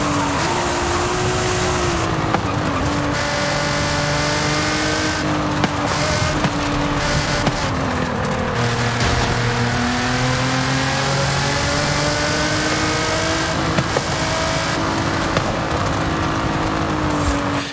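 A Nissan GT-R R35 Nismo with its V6 revs in Forza Horizon 5, a loud, steady game engine note with repeated rising pitch sweeps and gear changes, heard alone without talk.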